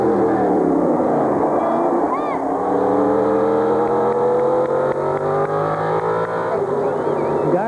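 An Indy race car at the 1997 Indianapolis 500, its engine failing with compression leaking into the water system, drones loudly past, a strained buzzing whine that holds steady and slowly shifts pitch under a commentator's voice.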